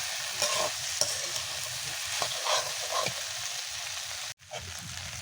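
Potatoes with spices stir-fried dry in a pan without water for a Bengali potato and lentil-dumpling curry, a steady close sizzle with repeated spatula scrapes and stirs, a brief drop in the noise near the end.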